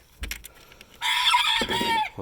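Backyard chickens in a coop give a few short clucks, then a louder, drawn-out squawking call takes over close by for about a second before fading.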